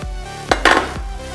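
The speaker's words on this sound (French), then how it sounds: "Je mélange vigoureusement pour bien incorporer la matière grasse" A utensil stirs butter into a gelatin ganache in a bowl, giving a few close scraping and clinking strokes, with one brighter clatter in the middle.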